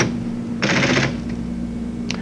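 Keys clatter in a quick burst of typing on an APL computer terminal keyboard, followed by a short pause and then a single sharp keystroke.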